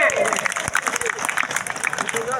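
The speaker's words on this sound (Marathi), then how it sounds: "टाळ्या करा या पोरासाठी सगळ्यांनी" A crowd at a village wrestling ground in Nimgaon applauds a winning wrestler, steady dense clapping over a noisy outdoor background with no clear speech.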